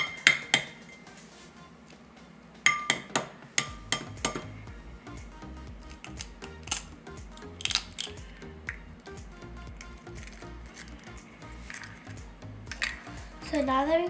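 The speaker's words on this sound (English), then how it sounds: "Now let's crack the second egg." Two eggs are cracked and emptied in a kitchen, with sharp taps and clinks of shell against a bowl, scattered close clicks of dishes and utensils, and a voice speaking at times.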